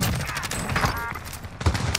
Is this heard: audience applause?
no